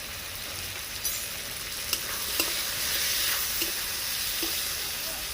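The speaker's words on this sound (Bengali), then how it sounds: "ঢাকা দিয়ে দিয়ে আলু বেগুনটাকে খানিকক্ষণ আমি কষে নেব।" Potato and eggplant fry with turmeric and chilli powder in a covered pan, a steady close sizzle and hiss with occasional light taps of a stirring spoon against the pan, and no talking.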